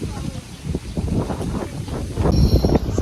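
Wind rushing and buffeting outdoors at a steady moderate level, growing stronger toward the end, with people talking over it.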